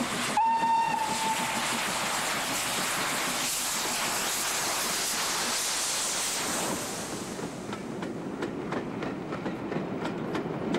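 A British steam locomotive hauling an excursion train out of a seaside town: a short bright whistle, then steady loud rumbling and chuffing with rail clatter that thins toward the end, with no voices.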